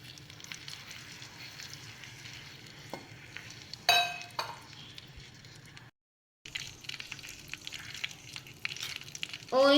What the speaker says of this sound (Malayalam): ഞാൻ ഇത് ബാക്കിയുള്ള ഓയിൽ മുഴുവൻ ഇതിനകത്തേക്ക് ഒഴിച്ചു കൊടുക്കുകയാണ്